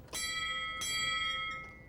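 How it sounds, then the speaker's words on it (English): A tugboat's freshly polished shiny bell rings twice in clear metallic strikes, each leaving a long bright sustained tone that slowly fades, close and alone. "I never noticed how nice my bell sounds."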